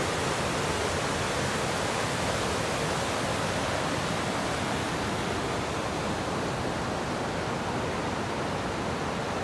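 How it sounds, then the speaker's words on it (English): Linville River rushing past a campsite in Linville Gorge, a constant broadband roar of fast-flowing water, loud and even for the full length with no voices. "Nice, peaceful sound in that water rush."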